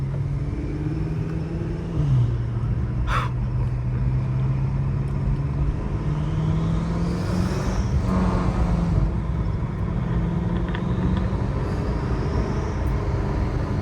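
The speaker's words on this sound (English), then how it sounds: "This is the first time driving the M5 with the exhaust and downpipes." A BMW M5 fitted with a full aftermarket exhaust and downpipes rumbles loudly from inside the cabin, its deep steady drone shifting in pitch as the engine revs rise and fall, with a brief whoosh midway and no talking.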